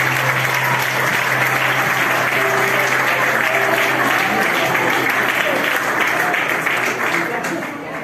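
A church congregation applauds loudly and continuously, a thick wash of many clapping hands that tapers slightly at the end, with voices audible beneath it.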